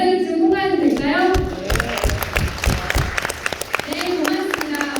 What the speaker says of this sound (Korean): 큰 박수로 만장일치 통과해도 될까요?